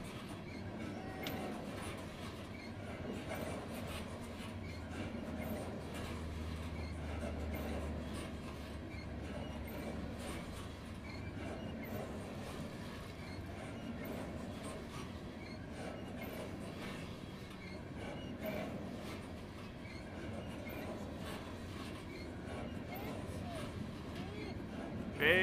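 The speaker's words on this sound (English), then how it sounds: "Yeah, train. Big long train." A very long freight train rolls past in Castle Rock, Colorado, with a steady, loud, close rumble of rail cars that runs the whole time and never fades, while voices talk over it now and then.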